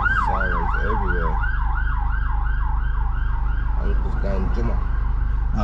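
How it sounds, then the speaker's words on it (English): A wailing emergency siren cycles up and down repeatedly over steady traffic rumble at a street protest, fairly close, with a second yelping siren joining briefly. "Sirens everywhere."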